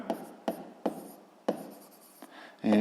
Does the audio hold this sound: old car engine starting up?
no